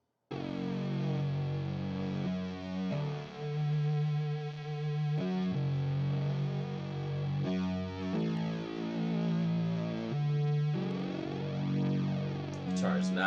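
A distorted electric guitar plays in a music track, thick sustained chords with chorus and echo effects shifting every few seconds over a steady low bassline, fairly quiet and without talk.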